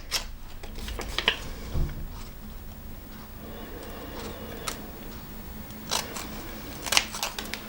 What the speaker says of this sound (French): je vais pouvoir découper donc les angles